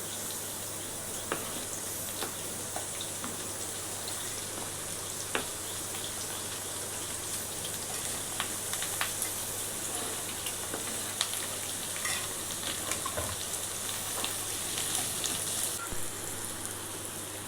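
Onions sizzling in hot oil in a kadhai for a dry soda (dried shrimp) bhaji, a steady close crackling hiss with scattered pops running throughout, no voices.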